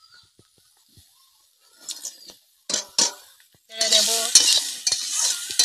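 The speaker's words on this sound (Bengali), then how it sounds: "এটা বানাতে গেলে সুন্দর করে ভাজতে হবে" Crab with potatoes, sweet potatoes and raw tomatoes fries in a pan. It starts quiet with a brief spoken word, then sharp utensil clatter, then a loud, dense sizzle with stirring scrapes.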